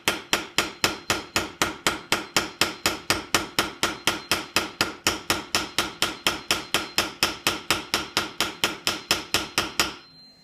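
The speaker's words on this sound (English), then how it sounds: "You want the hammer to do the work for you, just the weight of the hammer." Rapid, steady metallic hammer taps peening pins in a slipjoint knife, dozens of evenly spaced light blows ringing close up for about ten seconds before stopping.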